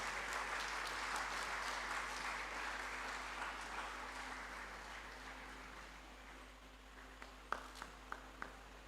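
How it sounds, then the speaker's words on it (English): An audience at an inaugural lecture applauds to welcome presenters, a sustained round of clapping that tapers off, leaving a few isolated claps and footsteps at the end. "Please welcome them with a round of applause."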